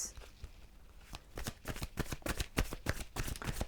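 Romance Angel Oracle cards are shuffled close by, a rapid run of crisp, papery flicks and slaps building in density, with faint speech-like murmur underneath.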